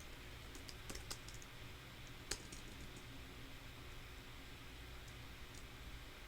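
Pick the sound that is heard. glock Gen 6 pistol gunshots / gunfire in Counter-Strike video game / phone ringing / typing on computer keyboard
typing on computer keyboard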